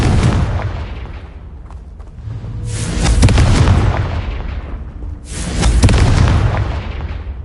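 Two heavy booming blasts from a Confringo spell in a video game, each a deep rumbling burst that swells and slowly fades, spaced a few seconds apart over a low continuous rumble.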